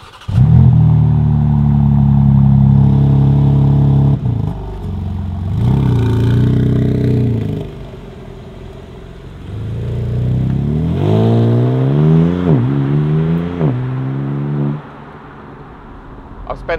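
A BMW M4 Convertible Competition xDrive pulls away on a road, its engine revving up through the gears in loud rising sweeps, dropping to a quieter cruise in the middle before climbing hard again.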